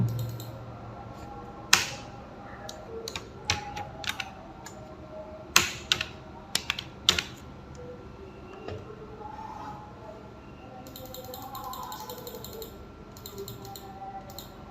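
Keys clatter on a computer keyboard in scattered bursts, sharp clicks clustered in short runs with quiet pauses between, close by and moderately loud, with a faint steady hum underneath and no talking.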